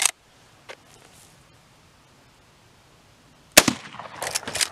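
A Winchester .22 rifle fires at a gunsmith school, giving a sharp nearby crack at the start, a faint pop soon after, a long quiet gap, then another loud crack followed by ringing and rattling.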